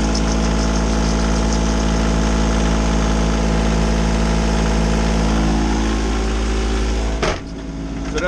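An inboard sailboat engine with its belt soaped to quiet it runs at a steady, loud idle drone. The drone dips briefly near the end, then continues.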